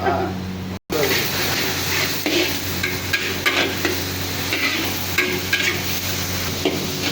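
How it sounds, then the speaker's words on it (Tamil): Chopped onions sautéing and being stirred in a pan for Sunday-special home-style mutton biryani, a steady close sizzle with scraping stir strokes and occasional utensil knocks throughout. "வெங்காயம் நல்லா ஓரளவு சிவக்கிற வரைக்கும் நம்ம வந்து வதக்கணும்"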